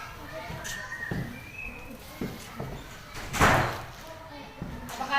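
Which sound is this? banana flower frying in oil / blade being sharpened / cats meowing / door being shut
door being shut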